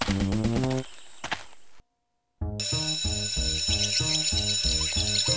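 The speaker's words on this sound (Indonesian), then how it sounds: "Bentar lagi bel sekolah bunyi." An electric school bell rings in loud repeated bursts, cutting off briefly with a short silence before ringing again steadily and loudly.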